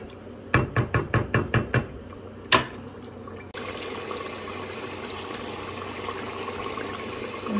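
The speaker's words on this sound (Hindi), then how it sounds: "गोश्त को भून रही हूँ मैं" Meat for aloo gosht fries in oil in a pot. A quick series of sharp clicks and a knock comes first, then a steady, close sizzling hiss continues without talk.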